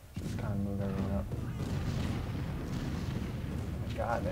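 Cannon fire rumbles through a Civil War battle in Ultimate General: Civil War, a continuous low booming barrage with overlapping distant blasts, while someone talks over it.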